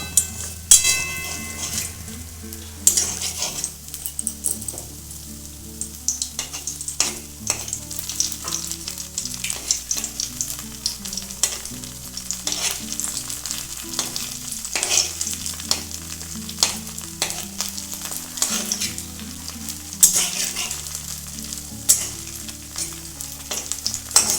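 Sabudana French fries deep-frying in hot white oil in a kadai and being turned over, with a steady sizzle and bubbling running throughout under a prominent musical backing.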